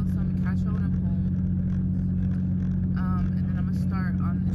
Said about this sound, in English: I know the car is really loud